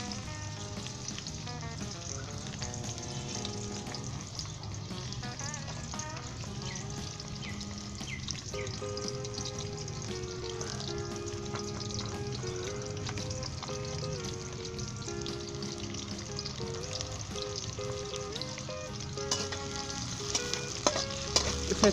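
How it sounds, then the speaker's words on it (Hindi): Ginger, garlic and onion sizzle steadily in hot oil in a kadai over medium heat, a continuous frying hiss with occasional stirring, under steady background music. "इसे अच्छे तरीके से 3 से 4 मिनट के लिए हम फ्राई करेंगे।"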